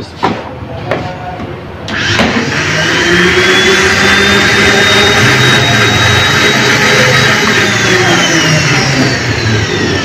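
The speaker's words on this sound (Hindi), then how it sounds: "ये मैं इसको ग्राइंड करने लगा हूँ।" Kitchen grinder blending spice ingredients with a little water, starting with a few clicks before settling into a loud, steady, high-pitched whirring motor drone that continues without pause.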